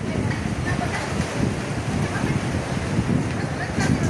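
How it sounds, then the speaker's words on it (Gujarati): Sea waves washing in at high tide near temple steps, a continuous rushing surf with wind buffeting the microphone, and people talking faintly in the background. "ત્યાં લગભગ ભરતીનો ટાઈમ હશે ને એટલે પાણી આ બાજુ આવતું જાય"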